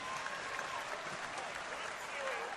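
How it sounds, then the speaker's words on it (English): Crowd inside a college basketball arena giving steady, moderate applause for a player who got up after a hard foul, continuous clapping throughout. "And some applause from the crowd inside Mott tonight"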